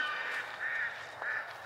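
Geese and ducks at a backyard pond give a few drawn-out honking, quacking calls that rise and fall in quick succession, loud and fairly close, with no talking.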